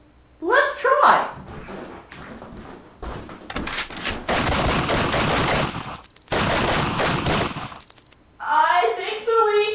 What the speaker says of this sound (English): Kim, does shooting a hole fix things?